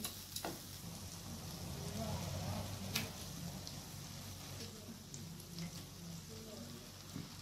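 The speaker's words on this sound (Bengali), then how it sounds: "এরপর মশলাটাকে ভালো করে কষিয়ে নেব।" Spice paste frying in a pan while an egg and chicken mince dish cooks, with a steady broadband sizzle throughout and a few sharp spatter pops, close and moderately loud.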